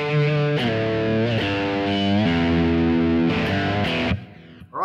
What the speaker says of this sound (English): if I use the hammer-ons, the vibrato, and the slides, and the slide bend, it sounds like this